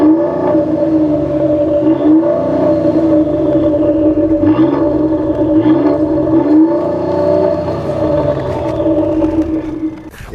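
A 2013 Ford Explorer Sport accelerates hard from 0 to 60 mph, its engine note rising and dropping back through several gear shifts, loud and close, with no talk.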